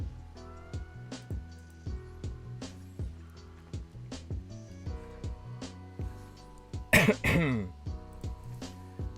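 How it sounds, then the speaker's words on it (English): A single loud cough bursts out near a microphone, sharp and broadband, over steady plucked game background music with a repeating rhythm. "Sorry if that cough was too loud."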